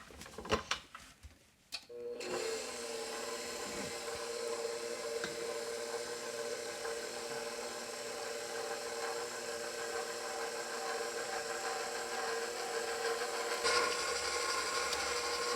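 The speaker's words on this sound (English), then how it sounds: "Gonna let that KitchenAid do all the work for about 10 minutes" A KitchenAid stand mixer kneads pizza dough with a steady mechanical whir and faint rhythmic knocking, starting after a few brief clatters and running continuously at moderate volume with no talking.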